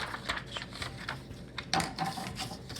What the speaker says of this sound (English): if you don't have scissors, you can always fold it and kind of rip it.